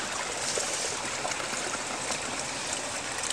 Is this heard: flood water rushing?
yes